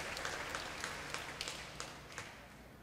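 A congregation in a Catholic church gives a round of applause during a patron saint festival novena in Coaraci, soft diffuse clapping heard at some distance with a few distinct claps.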